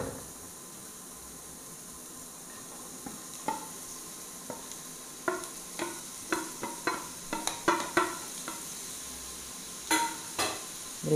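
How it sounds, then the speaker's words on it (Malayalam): Chopped cabbage tossed into a pan with tomato for a cabbage egg fry, a low steady sizzle broken by a run of sharp spatula scrapes and clinks against the pan, quiet and alone. "ഇതിലേക്ക് നമുക്ക് ഈ അരിഞ്ഞ് വെച്ചിരിക്കുന്ന കാബേജ് ഇട്ട് കൊടുക്കാം"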